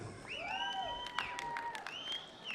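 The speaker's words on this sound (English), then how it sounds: "Let's clap hands for the boxers." A boxing match crowd claps in scattered bursts while shrill whistles rise and fall over the cheering.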